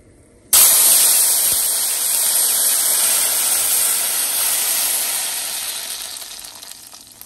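Blended cream and cilantro sauce hits an oiled saucepan with a sudden loud sizzle that starts abruptly, then holds as a steady hiss that slowly eases over several seconds, with no voices.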